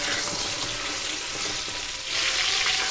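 Pointed gourd (potol) frying in a pan for a potol and prawn dish, a steady close sizzle with hissing broadband crackle throughout and a brief swell near the end, no talk.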